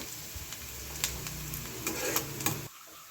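Ginger garlic paste drops into a pan of sizzling onions, giving a close crackling fry with a few sharp spatters and stirring scrapes before the sound cuts off abruptly.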